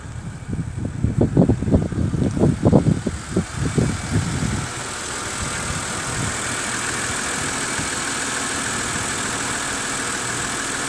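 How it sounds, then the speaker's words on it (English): A Mercedes C240 V6 engine runs with a rough rumble that settles into a quiet, steady idle hum for the rest of the time. "Engine super quiet and smooth."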